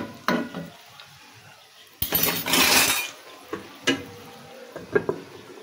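A metal lid set onto a cooking pot of vegetable shukto, one sharp clink followed by a burst of sizzling and a few softer clatters of utensils against the pot in a home kitchen.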